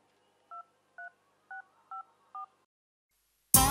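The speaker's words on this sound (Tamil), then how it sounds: "இதில் இருக்கிற நம்பருக்கு ஃபோன் பண்ணுங்க." Five evenly spaced telephone keypad tones ring out as a number is dialed, short clean beeps about half a second apart, followed by a sudden burst of a voice at the end.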